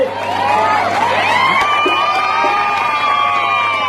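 A large outdoor crowd at a wrestling bout between Mehdi Irani and Shailesh Shelke at Karnala ground roars and cheers, with shrill whoops and children shouting, loud and continuous throughout.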